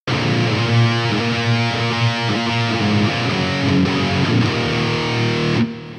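Heavily distorted electric guitar through a Fractal AX8 Boogie amp patch with no post EQ, playing a loud, chugging prog-metal riff of rhythmic palm-muted chords up close, then cutting off abruptly near the end.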